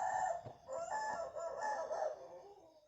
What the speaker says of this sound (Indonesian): aduh ayam lagi tuh